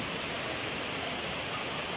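A river flows steadily on the trail to Mother Falls in Aurora Province, a dense, even rushing wash with no voices.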